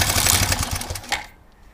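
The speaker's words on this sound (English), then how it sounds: "Almost sounds like I can hear that chain making some unusual noises." An engine idles with a loud, busy mechanical clatter of unusual valve train and timing chain noise, then cuts out abruptly partway through, leaving near silence.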